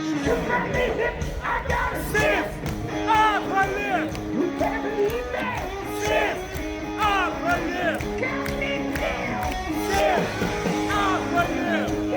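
Large AC/DC concert crowd in Amsterdam or Munich roaring and chanting in unison, massed voices rising and falling in sung waves, loud and continuous throughout, with a voice talking over it.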